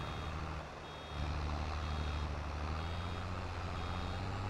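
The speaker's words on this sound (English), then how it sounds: "When you hear the beeping, just get ready to stop." A steady electronic warning beep repeats over a continuous low engine drone in Farming Simulator 22, signalling the machine is nearly full; no one speaks.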